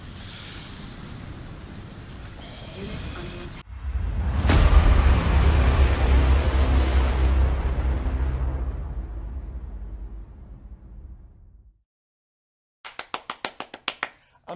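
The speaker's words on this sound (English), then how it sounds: "Feast your eyes on the ion cannon." An ion cannon blast strikes a base in the video game Command & Conquer 3: a sudden loud roaring explosion that swells and slowly fades over several seconds, preceded by rising charge-up noise and followed after silence by rapid sharp clicks.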